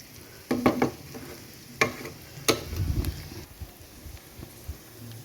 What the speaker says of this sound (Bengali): পেঁয়াজটা ভালো করে ভাজাভাজি হয়ে গেলে একটা আমি ডিম এতেই আমি ঝুরঝুরে করে ভেজে তার উপরেই মাংসটা দিয়ে দেব